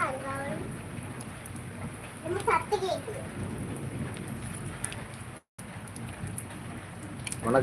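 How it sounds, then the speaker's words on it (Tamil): Heavy rain pours down in a steady, dense wash with occasional rumbling, and a voice speaks briefly near the start and end over the downpour. "மழை கடுமையான மழையா பெஞ்சு தான் லைட் லைட்டா கொஞ்சமாக ஓயுது பாருங்க"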